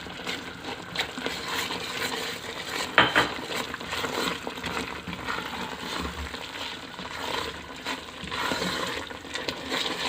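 Doodh halwa being roasted in ghee in a pan, a continuous soft frying sizzle with occasional stirring scrapes and one brighter clatter, heard alone without speech.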